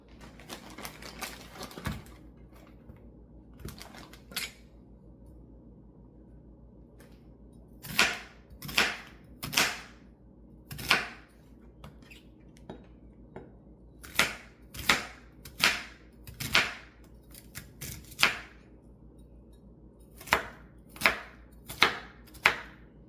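An onion is chopped with a knife on a cutting board in a home kitchen, heard as sharp, close knocks that come in irregular bursts with short quiet gaps between groups of cuts.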